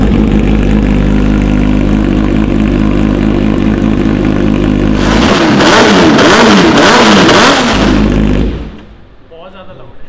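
Kawasaki H2 motorcycle fitted with an expensive aftermarket exhaust, idling with a loud, steady drone, then revving hard in a series of rising, roaring bursts before dropping back to a quieter idle.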